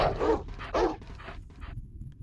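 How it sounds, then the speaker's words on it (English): Dogs that have broken their chains bark in a video game, a few loud close barks at first, then fainter yelps trailing off over a low background. "the dogs broke their chains."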